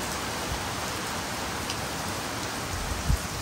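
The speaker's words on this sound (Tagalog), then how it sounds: "Isa bilog na adlaw maulan," Rain falling on a gray morning that may come with a typhoon, a constant, dense hiss of drops on surfaces with a few heavier patters, steady throughout with no voices.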